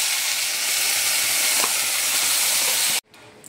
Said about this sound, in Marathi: आता ह्याच तेलामध्ये मी हे बटर घालते। तर ह्याच्यामध्ये मी ही टोमॅटो आणि कांदा त्याची जी प्युरी केलेली ती टाकते।